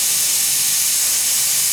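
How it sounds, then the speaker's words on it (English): A pressure cooker boiling potatoes lets out a loud, steady hiss of escaping steam, broad and continuous from start to finish with no talking. "whistle is an indication that the pressure has been built up"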